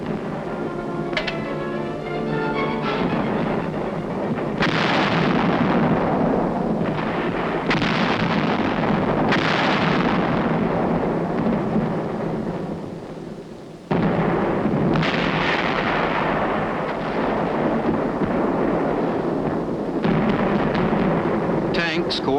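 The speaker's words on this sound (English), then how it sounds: "the big guns from this forward position concentrate their fire on known and" Heavy 155mm artillery guns firing from a forward position during the 1951 Korean War fighting, a run of loud, booming blasts and rumbling concussions spread through the stretch, with a narrator speaking over them.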